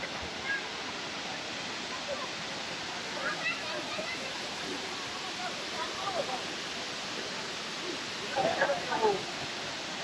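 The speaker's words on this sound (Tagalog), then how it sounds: "Ang ganda ng Alitap Falls." Steady broadband rush of Alitap Falls in Mauban, Quezon, a waterfall with a pool below, heard close and constant throughout, with faint voices briefly rising near the end.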